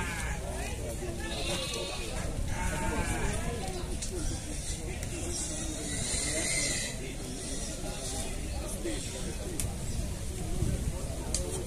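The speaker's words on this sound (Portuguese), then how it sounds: "Essas ovelhas aqui é do Val" Sheep at a livestock fair in Alagoas, Brazil, bleating repeatedly in overlapping calls from several animals nearby, with someone talking over the flock throughout.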